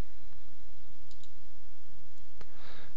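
A few soft computer mouse clicks while a user works in Internet Explorer: scattered isolated clicks, with one sharper click near the end, over a quiet background with no talking.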